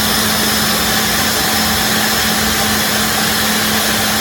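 An ex-school Nilco 1218EL vacuum cleaner motor runs at a steady loud whine with a constant hum, unbroken and close for the whole stretch.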